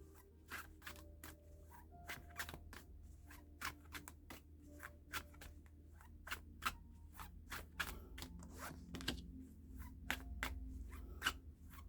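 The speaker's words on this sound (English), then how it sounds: "I shuffle them until they jump out at me." Animal guide oracle cards are shuffled by hand in a quiet room, producing soft, irregular flicks and riffles close to the microphone, with no talking.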